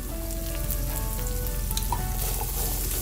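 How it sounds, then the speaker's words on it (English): Chopped green beans and onions sizzle steadily in a hot pan with salt and pepper, a continuous close frying crackle with occasional brief stirring clinks and no voices. "we're going to add our chopped green beans and give it some time to cook"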